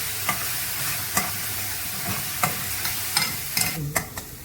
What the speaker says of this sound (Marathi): कांदा चांगला लाल झाला आहे त्यात मी अद्रक लसूणची पेस्ट टाकत आहे हिरवी मिरची पण थोडी मी घेतली आहे